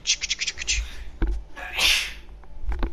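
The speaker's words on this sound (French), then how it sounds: "Ah, J'ai encore éternué." One sudden sneeze burst in a quiet room, with bits of nearby talk and small rustling noises before and after.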